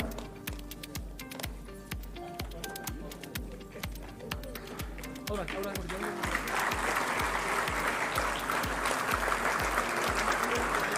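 An audience applauding newly appointed instructors at a Uttar Pradesh government event, a dense wash of crowd clapping rising in the second half over a steady rhythmic music beat.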